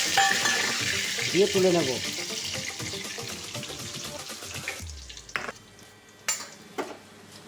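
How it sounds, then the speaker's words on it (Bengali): A few curry leaves fry in hot oil in a pan, giving a steady close sizzle under a speaking voice. The sizzle then quiets, and a few sharp utensil clinks follow. "এবার অল্প কয়েকটা কারি পাতা আমি ভেজে নেব"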